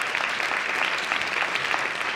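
Audience applause at a women's empowerment summit, a steady wash of many hands clapping evenly throughout without a break, fairly loud and close.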